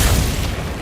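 A Glacius ice spell cast in Hogwarts Legacy gives a loud, booming burst with a broad crackling hiss that stays strong through its brief span of under a second.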